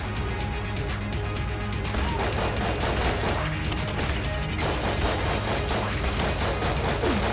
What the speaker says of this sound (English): Maybe I will use the sniper rifle.